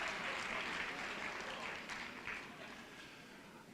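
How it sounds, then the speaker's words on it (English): Applause from a seated audience at a Martin Luther King Jr. Day commemoration at Queens College, fairly faint and steady, thinning slightly toward the close after a choral performance. "Another big round of applause for our initial performers."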